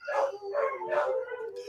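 Dogs bark and howl close by in three or four drawn-out, wavering yowls, one after another with short gaps, loud and clear.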